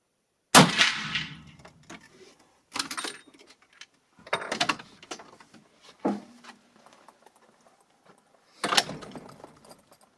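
A Pedersoli Guidemaster X .45-70 rifle fires one sharp, loud, close shot at a target range, followed by scattered metallic clanks and knocks spaced a few seconds apart.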